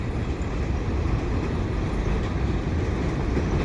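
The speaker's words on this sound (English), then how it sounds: "This is the train from Rouse's Point" A CP merchandise freight train rumbles steadily and loudly over a railway bridge across the Lachine Canal, heading northbound, a continuous heavy roar with faint rhythmic clatter throughout.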